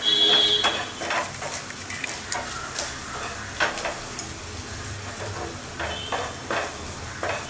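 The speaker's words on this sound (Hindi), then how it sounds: "इसको सिर्फ 2 मिनट के लिए आपको फ्राई करना है ताकि ओनियन का जो" Onion frying in a pan makes a steady sizzle close by, broken up by repeated clinks and scrapes of a utensil stirring against the metal, with no talking.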